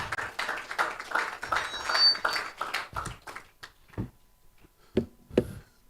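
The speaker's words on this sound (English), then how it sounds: "Please, a round of applause." An audience at an investors roundtable in Nigeria applauds, with dense clapping that thins out into a few scattered, separate claps.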